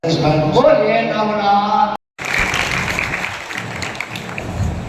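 An audience applauds loudly at a Shrimad Bhagavat Saptah and tree-planting gathering in Naniboru village, a dense spread of clapping that follows a man's amplified speech after a brief cut.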